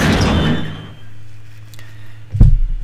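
A door swings open in the horror game Penumbra: Overture with a single low thump, followed by a steady low hum and a brief knock near the end.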